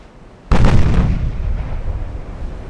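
Heavy naval gunfire from a warship's main battery in Ultimate Admiral: Dreadnoughts, one deep booming blast after a brief quiet lead-in, followed by a long rolling rumble that slowly fades.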